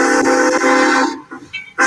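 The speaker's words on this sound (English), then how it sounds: "here's number 81 reversing out of the engine shed with me in the cab" Locomotive number 81 sounds a loud, sustained steam whistle as it reverses out of the engine shed, a long near blast that cuts off and gives way to a few shorter chirps and bursts.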